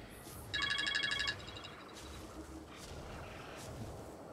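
A real phone rings once in a short, bright, warbling burst, cutting in over quiet Ark: Survival Evolved game ambience before it stops.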